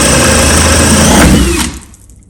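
A power drill bores through a stud partition wall dividing a garage into two rooms, giving a loud, steady whirring grind that cuts off abruptly near the end, leaving quiet.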